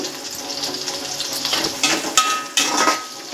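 Garlic and curry leaves fry in hot oil in a pan for a spicy pulao, a close, steady sizzle with a few sharper crackles and spoon stirs.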